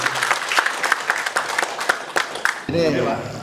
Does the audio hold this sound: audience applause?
yes